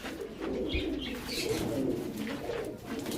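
Pigeons coo steadily in a loft of Kalpeti, Kalasobuj and Aliola breeds, a low continuous murmur of cooing close by with a few brief chirps mixed in.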